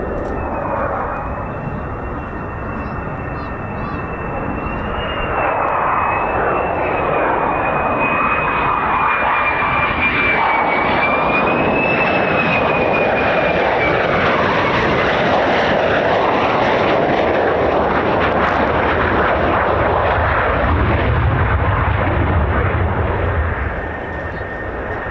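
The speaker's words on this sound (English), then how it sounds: "That's 3 F-16 startups from what I could hear" An F-16 fighter jet starts up at RAF Lakenheath, a loud sustained engine roar with a thin rising turbine whine layered on top, heard continuously from outdoors at moderate distance.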